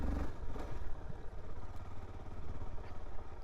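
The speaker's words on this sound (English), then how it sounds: "Let's just kind of feather the throttle just ever so slightly." A Suzuki DR-Z4S motorcycle engine turns over at low revs off-road while the throttle is feathered ever so slightly. It is a faint, uneven putter with light clattering and no voices.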